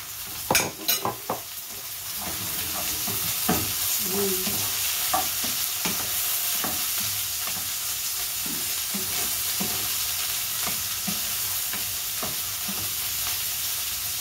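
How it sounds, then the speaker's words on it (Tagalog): Bitter gourd (ampalaya) sautés in a pan with a steady, moderate sizzle. Occasional stirring scrapes and soft utensil taps run through it without a break. "Gigisa ko muna siya sa ampalaya."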